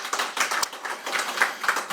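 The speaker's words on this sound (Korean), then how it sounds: "다시 한번 큰 박수를 부탁드리겠습니다" An audience at a Korean policy discussion gives a thin, uneven round of hand claps at moderate distance, with separate slaps audible rather than a full roar.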